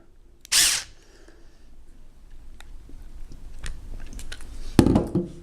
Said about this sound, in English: When I tighten this screw, you can see it opening up.